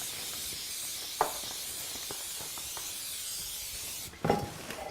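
A steady, close hiss of aerosol cooking spray onto a baking pan runs for about four seconds, with a few light taps, then cuts off before a short clatter.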